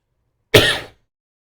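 A single short, close cough with a rasp of throat clearing from a man during a spoken talk, sharp at the start and fading within half a second, followed by silence.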